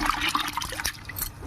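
Water is poured onto soaked sorghum grains in a bucket while washing them for jonna pittu, making a brief, soft splashing trickle with no talking.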